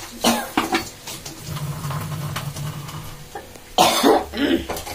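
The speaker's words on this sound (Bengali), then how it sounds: "আর কেসেই যাচ্ছিস তুই" A person coughs in several harsh bursts, a pair near the start and a louder cluster toward the end, with quieter kitchen noise in between and no talking.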